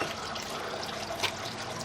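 Water from a broken pipe under a street rushes and hisses in a steady, dense wash of noise, with a brief louder splash partway through.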